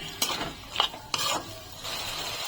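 Spice masala stirred and sautéed in a pan while cooking fish-head pulao, with a few quick scraping strokes of a spatula over a faint sizzle, fairly quiet and with no talking.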